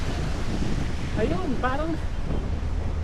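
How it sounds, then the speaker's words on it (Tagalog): Strong wind roars steadily across the microphone during a rainstorm with flooding in Dubai, a constant low rush throughout, with someone speaking briefly over it. "Nang lumakas yung hangin."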